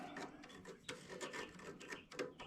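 A belt grinder rasps against a hard titanium knife blank in short, uneven scraping strokes, a close, gritty friction sound with no talking.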